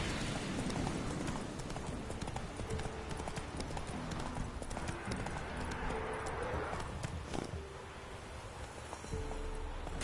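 A horse's hooves in a PS4 video game clip-clop steadily in a galloping rhythm at moderate volume, with faint rustling ambience and no talk.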